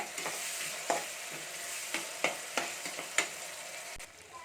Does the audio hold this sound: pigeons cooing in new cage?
no